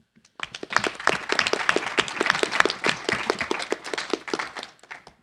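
A burst of conference audience clapping rises quickly, holds for several seconds as a dense patter of hands, then thins out and fades.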